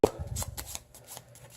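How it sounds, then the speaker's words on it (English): A quick shuffle of a deck of playing cards from the Hotshots card game, a soft flurry of riffling card flicks lasting about a second and a half, close and fairly quiet. "give them a quick shuffle"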